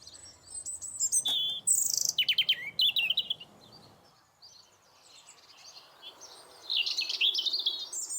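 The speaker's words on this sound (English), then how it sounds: "There's been a robin following me around the garden, and he's perched there. He's really singing." A robin sings from a perch in a garden, bright high warbling phrases in bursts with short gaps, fairly close and clear over a quiet outdoor background.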